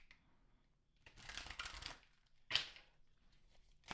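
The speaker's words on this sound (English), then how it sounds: "I'm going to shuffle these on camera." Tarot cards shuffled by hand on camera, two bursts of riffling and sliding followed by a short sharp snap and a light tap, close and fairly quiet with no talking.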